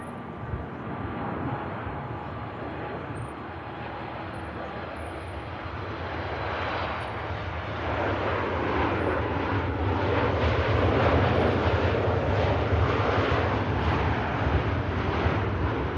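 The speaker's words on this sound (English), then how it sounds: "Nice touchdown from the Ryanair." A Ryanair airliner touches down at Manchester Airport, a steady broadband roar of jet engines and rushing air that swells louder midway and stays heavy to the end, with some wind buffeting the microphone.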